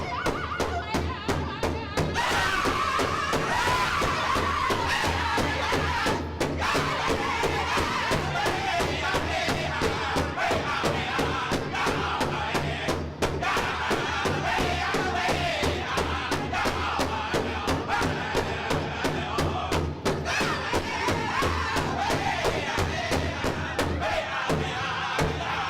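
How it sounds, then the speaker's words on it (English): Crowd at a youth pow-wow cheering and clapping over a loud, dense rhythmic pounding beat, with shouts and whoops rising above the steady thudding throughout. "Give these guys a round of applause."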